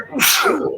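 A single loud, close sneeze with a quick inhale and a sharp burst, heard on its own with no talking.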